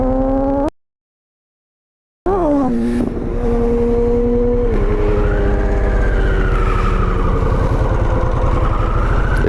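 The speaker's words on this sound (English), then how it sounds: "I'm on a Harley, boys!" Harley-Davidson Sportster 1250cc motorcycle engine rumbling loud and close while riding, revving with pitch changes, briefly cut to silence before resuming a steady throaty drone.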